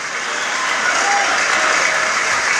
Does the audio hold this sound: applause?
yes